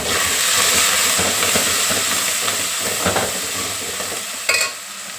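Mint, coriander and curry leaves crackling and sizzling in hot oil for a mutton bone curry, a steady loud frying hiss broken by stirring scrapes and a sharp clatter near the end, close and without talking.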